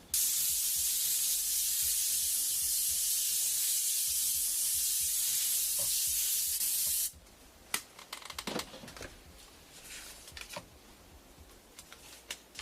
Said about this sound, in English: We'll spray that in with our darker color.